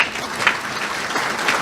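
Audience applause at a political gathering celebrating the Concerned Citizens Movement's election victory, a dense, steady clapping that fills the whole short stretch at an even, moderately loud level with no voices over it.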